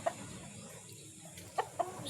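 A Golden Pullet hen, a backyard chicken, gives a few soft, brief clucks: one near the start and two close together near the end, over a quiet outdoor background.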